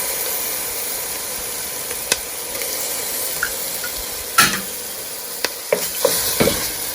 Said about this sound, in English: I'm gonna just let this saute for about 2 to 3 minutes